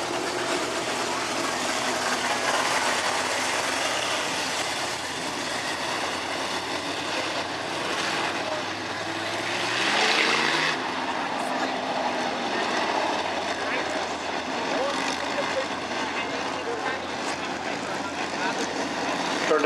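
Pro modified race cars circle Spoon River Speedway at night before the green flag, a continuous engine drone with a brief swell as the pack passes closer around the middle.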